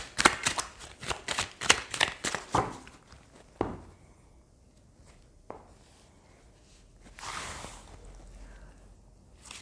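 Rider-Waite tarot cards are shuffled and handled close by, giving a quick burst of crisp riffling snaps followed by sparse soft slides and taps in a quiet room.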